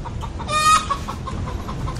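A hen lets out one short, loud clucking squawk just before the midpoint. A steady low rumble sits underneath, and no one speaks.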